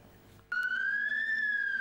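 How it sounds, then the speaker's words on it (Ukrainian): A siren at a gas-leak emergency drill on a training ground in Marhanets, Dnipropetrovsk region, starts abruptly and wails as a loud, sustained rising tone after a brief quiet lead-in. "Звук сирени"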